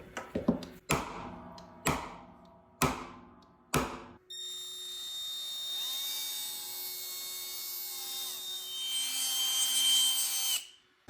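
A repaired Milwaukee M12 power tool motor gives several short trigger bursts, then runs steadily as a continuous high whine for about six seconds, close and fairly loud, and winds down at the end.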